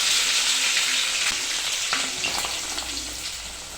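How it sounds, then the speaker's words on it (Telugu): Mustard seeds, cumin and chopped green chillies frying in hot oil in a pan for bitter gourd tempering, a loud steady sizzle with faint crackles fading slightly toward the end. "ఆవాలు జీలకర్ర చిట్పటలాడాక చిన్నగా తరిగి పెట్టుకున్న పచ్చిమిరపకాయలు వేయాలి."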